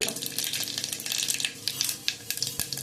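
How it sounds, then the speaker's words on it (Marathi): Mustard seeds crackle and sizzle in hot oil for daal khichdi, a dense, steady frying hiss with scattered sharp pops throughout, close and fairly loud with no voices. "तेल तापलं आहे, यामध्ये घालूया मोहरी"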